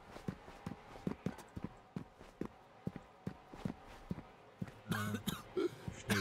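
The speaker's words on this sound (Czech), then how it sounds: "si zase kašle" A character in the video game I Am Alive coughs and clears the throat in a burst near the end, after a run of regular footsteps that tap out a steady rhythm at moderate loudness.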